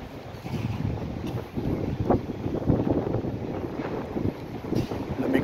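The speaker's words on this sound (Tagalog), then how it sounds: "Lamig ng hangin." Gusting wind on an outdoor walk in Al Khobar, Saudi Arabia, rumbling across the microphone as a continuous low buffeting roar with uneven swells, no voices.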